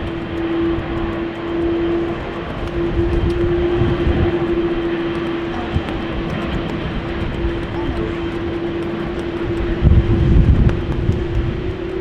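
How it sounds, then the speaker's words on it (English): Finnair Airbus A350 jet engines at wet, windy Amsterdam Schiphol Airport, a steady broad roar with a sustained tonal hum, swelling slightly partway through and peaking near the end, heard from a distance. "Finnair A350 is obviously not taking off from 18 left, it will be taking off from runway 24."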